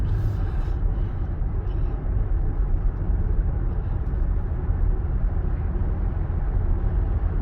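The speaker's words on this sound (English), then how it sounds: "You can hear it shifting, but it doesn't jerk you." A 2023 Nissan Pathfinder Platinum SUV accelerates from inside the cabin with a steady, loud low engine and road rumble, and gear shifts only faintly discernible in the continuous drone.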